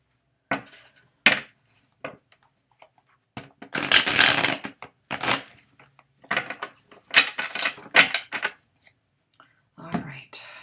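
Tarot cards shuffled in hand for a relationship reading, a series of crisp riffling and slapping bursts separated by short pauses, close and fairly loud.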